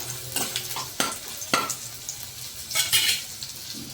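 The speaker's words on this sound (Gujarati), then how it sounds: "મસાલા શેકાતા હોય ત્યારે સુગંધ ખૂબ જ સારી આવે છે" Spices roast in a pan for a matar paneer curry, giving a soft, steady sizzle broken by intermittent stirring scrapes and light metallic taps.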